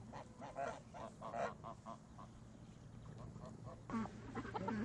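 Geese honking, a belligerent farmyard goose among chickens and ducks, a run of repeated nasal honks at moderate distance with a fresh burst of calls near the end.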